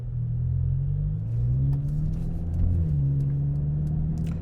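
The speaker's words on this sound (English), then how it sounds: "all you need to do is just do a couple of revs with that exhaust politely" A Mercedes CLA45 S fitted with a new exhaust gives a couple of revs in morning traffic, its deep rumble rising and falling steadily and loudly with no talk.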